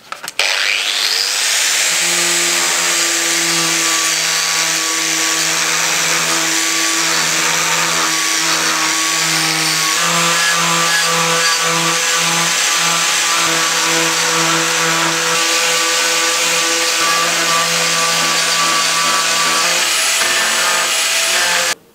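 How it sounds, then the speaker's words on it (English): An orbital sander with a 180 grit pad polishes stainless steel, making a loud steady electric whir with a gritty rasp that runs unbroken for the full length before cutting off at the end. "It's just your basic orbital sander pad."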